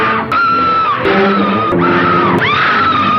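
A woman in the King Kong film screams loud and shrill, wailing in several long, piercing bursts broken by brief gaps, with music or other film sound faintly underneath.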